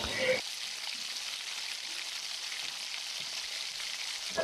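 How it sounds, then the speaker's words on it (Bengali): Tengra fish frying in hot oil in a pan gives a steady, close, even sizzling hiss that runs unbroken for the whole stretch, with no talking over it. "পরিমাণ মতন কড়াইয়ে তেল দিয়ে তেলটি গরম হয়ে গেলে একে একে মাছগুলো দিয়ে ভালো করে এপিট ওপিট লাল লাল করে ভেজে একটি পাত্রে তুলে নেব"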